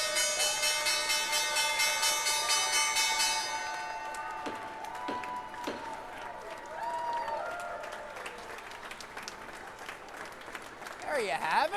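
The New York Stock Exchange closing bell rings loudly and steadily for a few seconds, then gives way to applause, cheering and crowd chatter on the trading floor.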